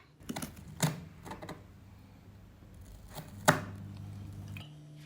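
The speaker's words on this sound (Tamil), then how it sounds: "1 kg சிக்கனுக்கு நம்ம 3 வெங்காயம் எடுத்து பொடி பொடியா கட் பண்ணி வச்சுக்கோங்க" A knife finely chops three onions on a board, sharp irregular thuds with quiet gaps between them, close and clear with no voices.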